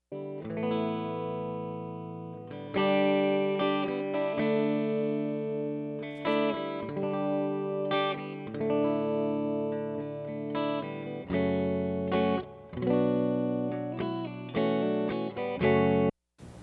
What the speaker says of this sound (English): this is actually a 2002 Gibson Faded Flying V played through a 71 twin reverb